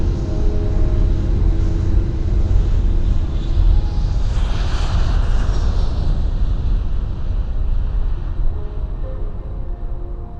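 Steady loud jet roar and deep rumble of an airliner on its takeoff run, continuous throughout with a broad swell of hissing engine noise in the middle and no talk.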